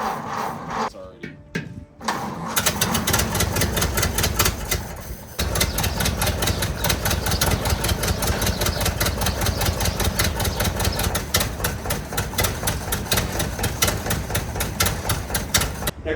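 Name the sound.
Ford Model A engine cold starting and idling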